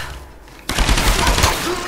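Machine gun fire in the Tomb Raider video game, a sudden loud burst of rapid shots that starts after a quiet moment and continues to the end.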